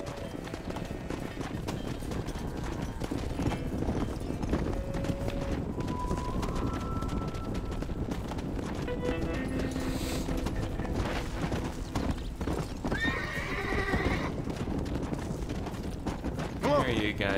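Rapid clip-clop of galloping horse hooves in Red Dead Redemption runs steadily throughout, layered with busy game music and effects, with occasional voices mixed in.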